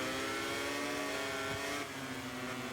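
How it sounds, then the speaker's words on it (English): Motorcycle engine in MotoGP 24 revving hard at sustained high pitch, a loud continuous whine with a slight drop and shift in tone partway through, no voices over it. "Just heard the revs."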